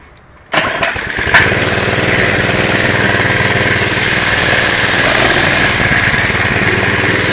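A mini bike's small engine fires up abruptly after a brief quiet moment, sputters, then settles into a loud, rough, steady running drone close by that continues to the end.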